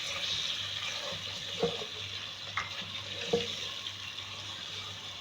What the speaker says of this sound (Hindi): थोड़ा सा बिल्कुल पानी शामिल करूँगी ताकि मसाला नहीं जले।